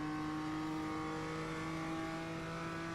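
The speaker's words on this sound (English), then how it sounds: "Now that's what the Mustang should sound like, Dan." A Mustang cup race car engine revs hard at Laguna Seca, a loud, steady droning roar with strong tonal harmonics holding constant for a few seconds.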